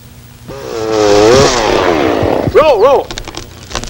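A chainsaw cuts into a tree outdoors, its engine loud and close with a revving, wavering drone that rises and falls, then swoops up and down near the end.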